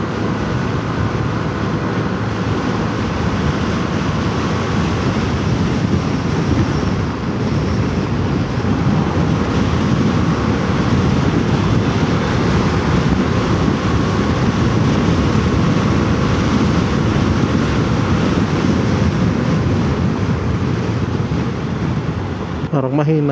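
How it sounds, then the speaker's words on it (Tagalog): Strong wind roars past a CVT motorcycle riding at around 90, a loud, steady rushing rumble that lasts the whole stretch with no breaks. "Lakas din ng hangin eh."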